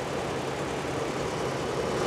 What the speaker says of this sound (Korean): 엔진 돌아가고 시동 걸린 상태에서 배터리든 마이너스 떼버리면